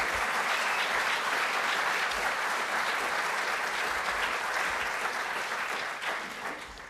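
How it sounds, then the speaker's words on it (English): Dense, steady applause from a room full of people at a Rotary Club of Tulsa meeting, sustained throughout and tapering slightly at the very end. "So let's give them a round of applause."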